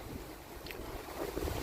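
Strong wind buffets the microphone in a steady broadband rush with gusts swelling toward the end, a dense roar with no voices present.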